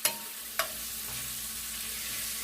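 Onions fry in a pan on a gas stove at medium heat, a faint low sizzle under two sharp utensil knocks as they are stirred near the start.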